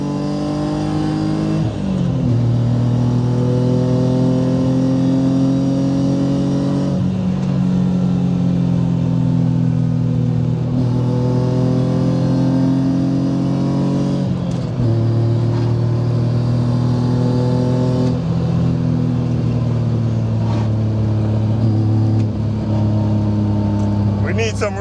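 A BMW E46 Touring with a swapped M54B30 straight-six is driven hard through repeated gear changes, the engine droning loudly as it climbs in pitch before each shift, while someone talks over it.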